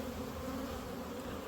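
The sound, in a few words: bees buzzing around hives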